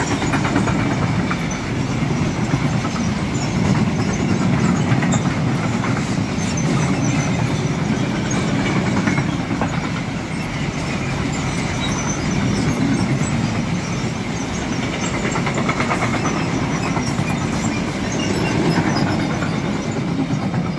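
Freight train hauled by a class 185 electric locomotive passing through the station at Wächtersbach, a continuous heavy rumble of wagons and wheels on rails with faint squeal, steady and loud throughout.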